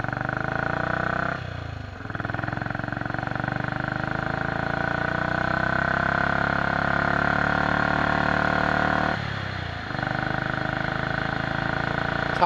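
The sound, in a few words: Norton International motorcycle engine accelerating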